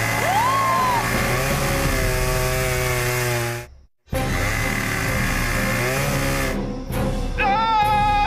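A chainsaw carried as part of a horror costume with a hockey mask and hook revs loudly in a steady buzzing drone, cuts out abruptly for a moment, then roars back with rising revs.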